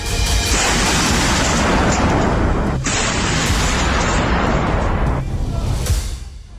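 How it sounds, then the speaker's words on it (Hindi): A Koksan 170 mm self-propelled artillery gun firing shells gives a dense, sustained roar of booming blasts and rushing noise, loud and continuous for several seconds before tapering off at the end. "यह आर्टिलरी गन 170 mm के गोले दागती है और 5 मिनट में 2 राउंड फायर कर सकती है"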